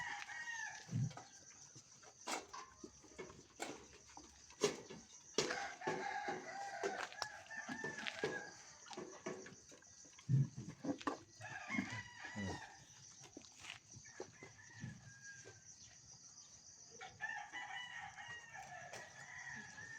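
Many chickens cluck and call around a yard, with occasional crowing and scattered clatter, fairly faint and continuous without talking.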